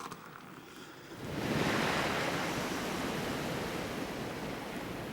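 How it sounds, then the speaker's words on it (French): A shower starts running with a rising rush of water, then settles into a steady, broad hiss of spray falling close by, with no voices. "Là, je vais prendre une petite douche."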